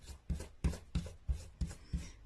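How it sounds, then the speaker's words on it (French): An eraser rubs pencil marks off a pop-up card in seven evenly spaced, soft scrubbing strokes, close and quiet, with no talking. "on va gommer nos traces."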